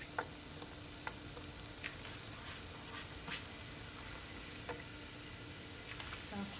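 Onions frying and caramelizing in a pan for tacos, a soft steady sizzle with a few light clicks and stirs, faint and close, with no talking.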